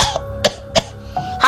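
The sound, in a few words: storyteller imitating a cough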